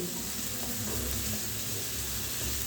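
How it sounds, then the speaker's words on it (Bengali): Grated cauliflower sizzles and fries in a pan over a low-to-medium gas flame, with a steady, close hiss running throughout and no talking. "এখন আমি গ্যাসের ফ্লেমটা লো টু মিডিয়ামে রেখে এই ফুলকপিগুলো 4 থেকে 5 মিনিট খুব ভালো করে রান্না করে নেব"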